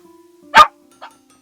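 Dog in the blacksmith-shop video game Blacksmith Master barking once sharply and close, followed by a softer short yip, over a faint steady hum.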